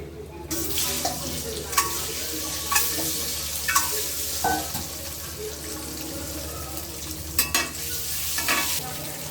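Steady hissing sizzle of an egg frying in a pan, with a few sharp clinks of a utensil scraping or tapping throughout.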